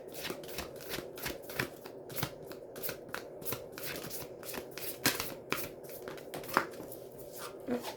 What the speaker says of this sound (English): we're going to go ahead and pull the God, and Goddesses card